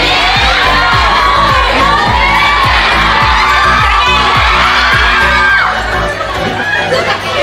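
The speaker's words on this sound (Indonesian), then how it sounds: "tepuk tangan dulu" Seminar audience at a church youth event erupts in loud cheering and whooping with shouting voices, a dense crowd roar with a rhythmic pulse of clapping running steadily throughout.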